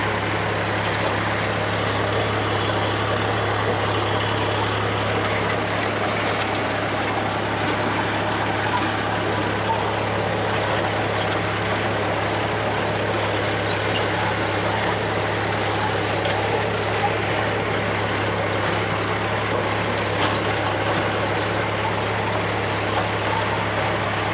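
A tractor engine runs continuously in a field with a steady, droning, strong low hum, loud and close, with no pauses and no voices.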